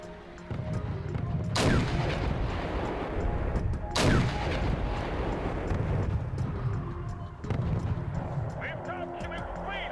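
Artillery fire in the wargame Wargame: European Escalation, with three heavy booming blasts spaced a few seconds apart over a continuous low battle rumble and a voice in the background.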